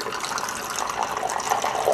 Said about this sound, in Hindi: इस पानी को हम यहाँ पर इस जगह पर ऐड कर देंगे